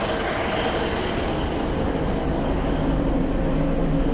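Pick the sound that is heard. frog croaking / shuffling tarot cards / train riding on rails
train riding on rails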